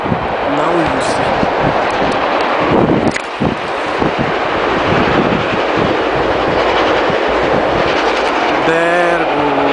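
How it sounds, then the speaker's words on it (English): A train rolls past with a loud, continuous rumble and rhythmic clatter of wheels in a snowy outdoor setting. Strong wind buffets the microphone, and a horn sounds briefly near the end. "There goes the train."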